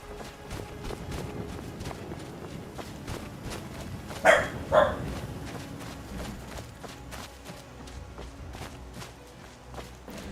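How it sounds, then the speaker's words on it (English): A dog barks at a door inside a Skyrim game, two sharp barks in quick succession standing out over a constant background of footsteps and ambient game noise, with no talk. "Got the dog barking at the door here"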